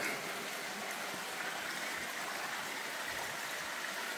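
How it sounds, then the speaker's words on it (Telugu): The Tumbura Theertham waterfall pours in a dense, unbroken roar, loud and close, with steady rushing water and no voices. "చాలా అద్భుతమైనటువంటి ఈ వాటర్ ఫాల్స్ చూడడానికి"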